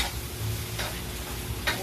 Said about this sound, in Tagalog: Tingnan ko na guys yung hotdog. I-toast natin para masarap.